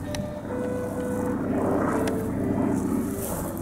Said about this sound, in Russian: Что за самолет, интересно?